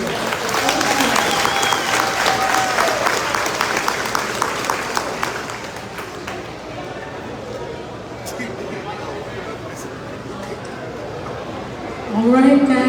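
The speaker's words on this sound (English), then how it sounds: "give the President of Guyana another round of applause" A large crowd applauds loudly for several seconds, clapping gradually thinning out before a brief fresh swell near the end.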